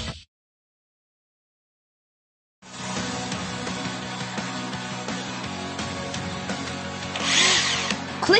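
In the Blaze and the Monster Machines video game, tools repair Swoops' rotor. After a brief silence, a whirring power-drill sound starts and runs steadily, with a louder burst near the end and no voices.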